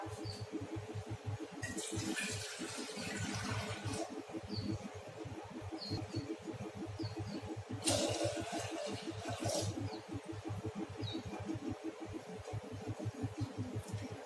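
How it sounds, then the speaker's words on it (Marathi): Water pours into a pressure cooker in two splashing bursts over a steady low hum. "आता आपण त्या कुकरमध्ये पाणी टाकूया।"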